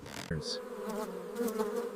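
Worker honey bees buzzing close by, a dense steady hum after a sharp onset, with brief louder swells as individual bees pass near.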